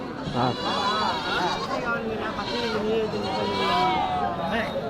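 Goats bleat repeatedly at a busy livestock market yard for sheep and goats, loud and close, with overlapping calls over a steady murmur of crowd talk and trader chatter.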